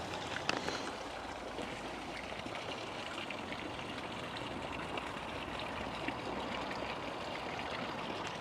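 Water in a garden pond trickles and burbles softly and steadily, a gentle continuous flow with a faint outdoor hush behind it and no talking.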